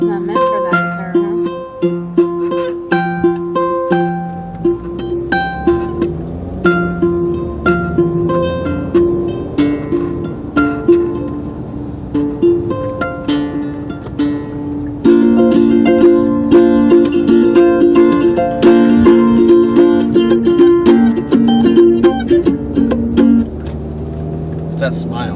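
An acoustic guitar with a capo on is plucked and strummed, its notes ringing steadily for about 25 seconds while a person talks over it.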